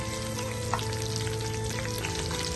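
Fenugreek, crushed garlic and curry leaves frying in hot coconut oil for a lemon pickle tempering, a close, steady crackling sizzle with a few small pops and no talk.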